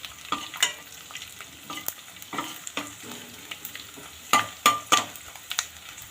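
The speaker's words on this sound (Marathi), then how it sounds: "कढईत तूप गरम झालं की थोडे थोडे यात थोडं थोडं डिंक घालायचं आहे" Edible gum fries in hot ghee in a kadhai with a steady crackling sizzle, broken by sharp metallic scrapes and clinks from stirring at an irregular pace.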